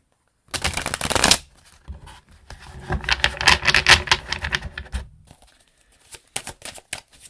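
Tarot cards shuffled by hand up close, a quick riffle followed by longer stretches of crisp flapping and slapping, then a few lighter taps as the deck settles.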